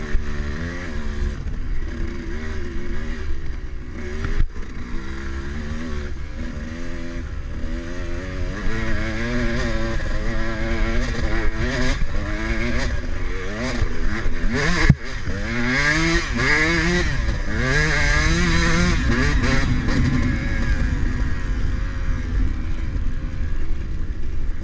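Dirt bike in the Little Brown Jug hare scramble race, engine revving up and down continuously through muddy ruts, loud and close with repeated throttle surges and gear changes.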